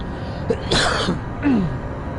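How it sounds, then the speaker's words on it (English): One person gives a single sharp, close cough, with a quieter throat noise after it, over a steady hum of background sound while playing the video game Limbo. "every cough that I end up doing always scares me"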